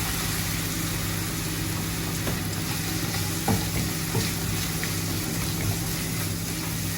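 Finely chopped onion with ginger-garlic paste frying in a pan for egg rice makes a loud, continuous sizzle, broken by a few faint stirring scrapes.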